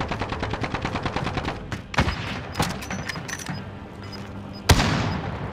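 Rapid bursts of automatic gunfire from a Call of Duty battle royale match, dense and loud, punctuated by a few sharper single shots and a heavy boom near the end.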